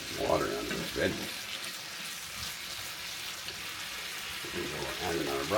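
Carrots and other vegetables stir-frying in a pan give a steady, close sizzle that runs throughout, with brief voices rising over it near the start and end.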